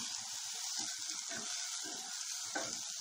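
Onions and curry leaves sautéing in a pan for a prawn semi gravy, a soft steady sizzle with light stirring rustles, quiet and close.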